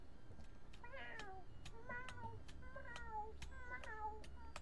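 Repeated meowing calls of a creature in the video game Creatures of Sonaria, four or five short cat-like meows in a row over soft background noise, with sharp clicks between them.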